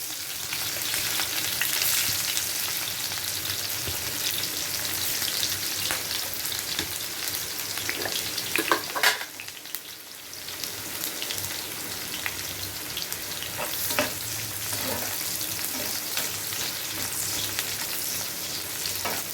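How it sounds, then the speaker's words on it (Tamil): Steady, dense sizzling of onions frying in hot oil, with a few brief stirring clatters partway through; no talking. "அந்த வெங்காயத்தை அந்த எண்ணெயில் போட்டு நம்ம வந்து பொறிச்சு எடுத்துக்கலாம்"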